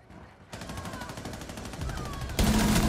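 Rapid automatic gunfire in the video game Rainbow Six, a sustained burst of closely spaced shots, loud and near, ending in a heavier blast of fire.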